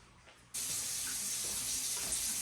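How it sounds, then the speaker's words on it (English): A kitchen tap turns on and runs hot water into a pot, a sudden start after brief quiet, then a steady, close hiss of flowing water that keeps going to the end. "fill this pot with hot water out of the tap"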